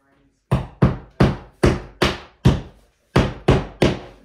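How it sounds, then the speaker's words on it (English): A hammer strikes drywall anchors into an indoor wall with nine sharp, evenly spaced knocks, each a loud close thud that dies away quickly, alone with no talk. "how you do it, you just hammer them in"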